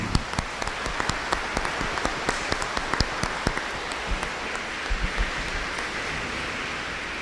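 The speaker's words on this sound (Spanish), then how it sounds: "Un aplauso." A congregation applauding at Sunday Mass, dense clapping with distinct sharp claps in the first half that thins into a softer patter toward the end, moderately near.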